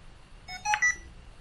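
A Feiyu Vlog Pocket 2 three-axis smartphone gimbal, with a phone mounted, gives a short cluster of clear electronic beeps as it powers on. The tones are close and moderately loud over a quiet background.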